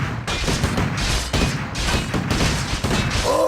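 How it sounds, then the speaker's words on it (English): Riflemen in Warcraft 3 fire in a dense, continuous volley. Overlapping gunshots and crashes crackle loudly with no break. "Fire! Shoot to kill!"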